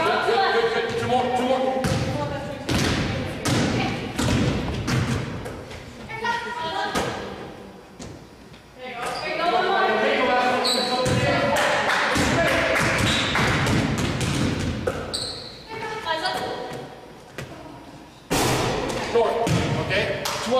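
Basketballs thump repeatedly on a gym floor during a coaching clinic drill, with irregular bounces mixed with a coach's close spoken commands and other voices throughout.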